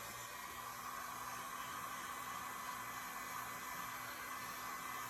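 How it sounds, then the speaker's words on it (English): Commercial heat gun blowing hot air, a steady, even broadband rush with a faint constant hum underneath, running unbroken and close throughout with no voices. "So we have a commercial heat gun."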